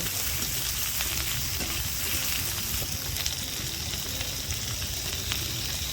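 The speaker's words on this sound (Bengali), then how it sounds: "এরপর কুচনো বেগুন দিয়ে দেব সবগুলো সবজি কিছুক্ষণ ভেজে নেব" Pumpkin, chopped eggplant and other vegetables frying in a pan for noty shaak ghonto, an even, dense sizzle that holds steady throughout, close and unbroken, with no voices.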